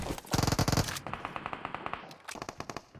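Automatic weapon fire in the PUBG Mobile battle royale game, on the Livik map: a dense loud burst of rapid shots, then further rattling volleys in quick succession with no talk over them.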